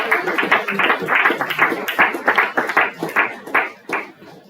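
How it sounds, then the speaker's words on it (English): A book launch audience gives a round of applause after a keynote: a steady patter of many hands clapping in quick, even bursts that thin out and fade toward the end. "Another one round of applause, please."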